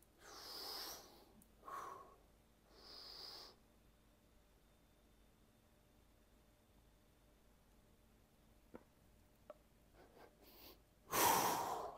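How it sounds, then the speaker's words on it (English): Deep diaphragmatic breaths taken during a posture alignment exercise, a few soft, airy inhales and exhales close by in a quiet room, followed by a louder rush of breath near the end. "I've got that big expansive breath through my diaphragm"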